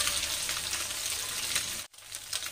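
Bash pabda fish fry lightly in oil with a soft, steady sizzle close by, broken by one brief gap just before the end, when the frying resumes.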